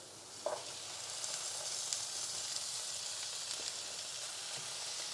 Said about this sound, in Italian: Procedo a inserire i bocconcini di cinghiale.